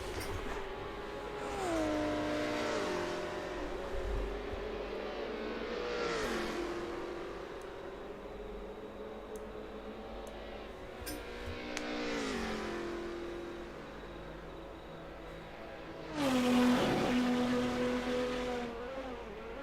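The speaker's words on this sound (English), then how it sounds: "Let you enjoy the sound of these cars as they roll through" Group A race cars roar around the Bathurst circuit in a sim racing game, engines revving and shifting as several cars pass in turn, one surging louder near the end.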